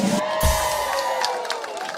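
A crowd at a graduation ceremony on the Saint-Jérôme campus applauds and cheers in a sustained wash of clapping with a few whoops, loud and close.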